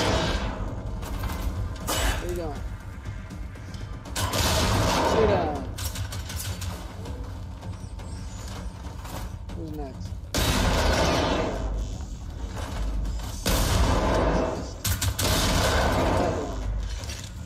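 Gunfire in the video game Generation Zero comes in several loud bursts of shots and impacts separated by quieter stretches, with a low rumble underneath.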